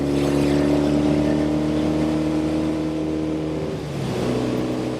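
Engine of a 1968 Norton Commando 750 Fastback motorcycle cruising on an interstate, a steady throbbing drone under wind noise that dips and settles into a lower tone as it shifts gear near the end.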